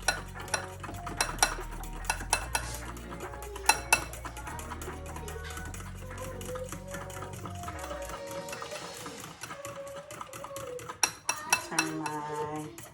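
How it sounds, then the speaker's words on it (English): Onion ring batter gets whisked in a bowl, a steady run of quick metallic clinks and scrapes, close and moderately quiet, with sharper taps scattered throughout. "just whisk that together really good"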